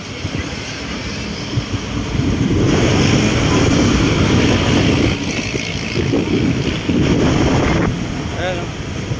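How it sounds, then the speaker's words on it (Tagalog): Strong wind buffets the microphone in loud gusts over rushing waves at Dolomite Beach in Manila, with a voice speaking briefly underneath. "Lakas ng hangin."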